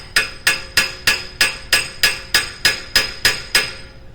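A hammer strikes an Audi A3 front wheel bearing hub to knock it loose, about a dozen sharp metallic blows at an even, steady rhythm, loud and close, with no talking.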